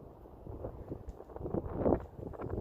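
Wind buffets the microphone in a steady low rumble with gusty swells, no voices.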